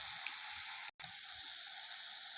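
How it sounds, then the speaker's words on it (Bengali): Steady, loud sizzling of papaya pieces frying in hot oil in a pan, a continuous crackling hiss with a brief cut to silence partway through. "পেঁপেগুলো ভাজা হয়ে গেছে এবার তুলে নেব"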